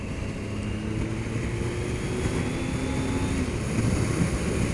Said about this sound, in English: We're just using 3rd and 4th gear here, just controlling the bike on the throttle